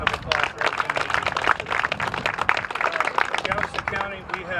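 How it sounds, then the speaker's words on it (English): A crowd at a groundbreaking ceremony for the Clear Lake Shores dock project claps in a brisk, uneven patter of individual hand claps, with voices mixed in. "let's give those guys a round of applause for everything they do"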